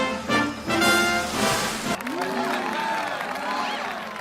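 A cartoon crowd from The Simpsons cheers and claps for a dancing octopus, a loud burst of applause and shouts that fades into a murmur of babble and voices.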